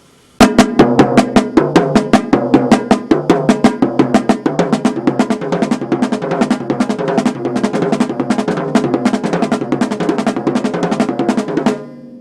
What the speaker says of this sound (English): In this example, I'll do the diddles on the toms and the para on the snare.